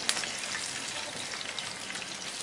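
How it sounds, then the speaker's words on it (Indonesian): Food deep frying in hot oil gives a dense, steady crackling sizzle with scattered sharp pops, close and fairly loud throughout, with no voices. "Kita akan goreng lagi sampai nanti semuanya habis."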